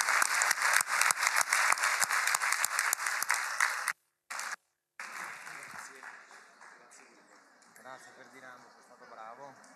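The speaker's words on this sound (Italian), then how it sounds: "Un applauso per il decano, dai." Applause for the dean at a university rector candidates' presentation, a loud sustained clapping from the hall that cuts out briefly, then resumes more softly and tapers off while voices begin to talk.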